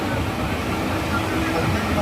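A passenger train running, heard as a steady, dense rumble and rushing noise filling the whole stretch, continuous and fairly loud with no breaks.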